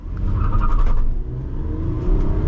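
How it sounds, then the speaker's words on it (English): A 2011 Toyota Camry SE V6 accelerating hard from a standstill, its engine a loud, steady roar with low rumble and rising whine that holds strong throughout, close to the listener with no talking. "let's do our acceleration test. Hopefully we don't get a lot of wheel spin"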